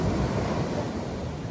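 Ocean waves washing onto a beach along the Great Ocean Road near the Twelve Apostles, a brief steady roar of surf mixed with wind buffeting the microphone, no voices.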